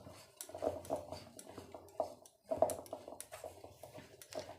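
Ingredients being mixed together in a bowl, with close, uneven bursts of scraping and clinking as a utensil knocks and drags against the dish, pausing briefly before starting again.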